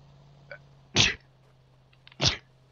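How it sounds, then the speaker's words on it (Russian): Two sharp sneezes sound close to the microphone about a second apart during a GTA San Andreas session, each a loud brief burst over quiet background hum. "чихнуть хочу"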